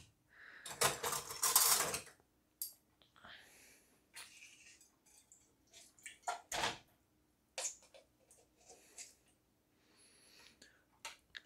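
A spoon scrapes and digs chunks of canned Russian goat meat out of a tin, giving sharp metallic scrapes and clinks in irregular bursts, close and fairly quiet.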